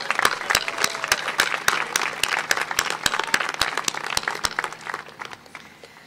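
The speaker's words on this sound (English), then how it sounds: "let's just give a round of applause for this lovely evening" Graduation audience applauding at a high school commencement ceremony, a dense wash of many hands clapping with a few sharper nearby claps standing out, steady for several seconds before fading.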